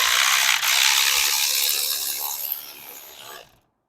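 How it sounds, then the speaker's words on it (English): A small electric ratchet spins out a bolt during removal of a 2.0T FSI engine on a driveway, giving a close, steady whirring buzz for about three seconds before it fades and stops. "I'm so impressed with this little electric ratchet."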